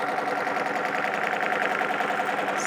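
A sewing machine runs without a break while quilting a baby quilt through its batting, giving a steady, close mechanical whir with a fast rhythmic chatter and no pauses.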